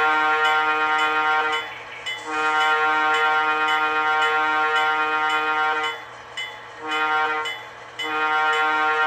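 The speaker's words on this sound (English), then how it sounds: "F2 is your horn." An ESU V5 sound decoder in an MTH Veranda Turbine HO scale model train sounds its horn in several loud, sustained blasts separated by short breaks, heard alone and close.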